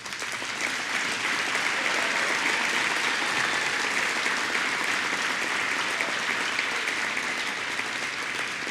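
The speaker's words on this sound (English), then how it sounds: "most enthusiastic clapping was coming from the Z's table, right on cue" Sustained, dense audience applause fills a hall at a 2022 State of the City address, steady and loud throughout with no break or speech over it.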